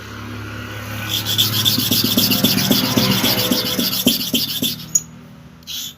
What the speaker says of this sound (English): I've sharpened for here 2 and 10 times, and I want to sharpen for here 2 and 10 times too